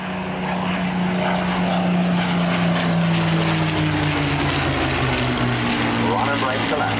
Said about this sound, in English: Spitfire and Hurricane.